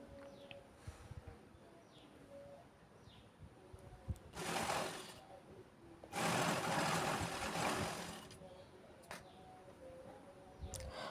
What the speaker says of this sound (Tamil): இதை நம்ம ஸ்டிச் பண்ணி எடுக்க போகிறோம்